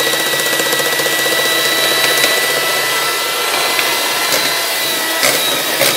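Electric hand mixer whirs steadily through nastar cookie dough after egg yolks go in, a continuous motor hum with a few brief clatters of the beaters against the bowl, close and loud with no talking.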